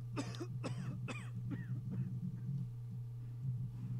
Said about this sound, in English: Did you just cough?